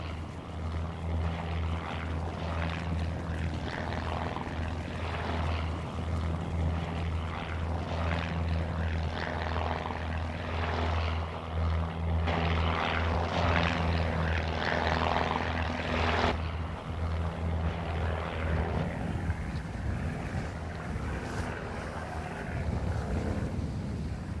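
A propeller plane flies over the Garamba area of Congo, its steady droning engine rumble continuous and fairly loud, with slight swells in intensity as it passes.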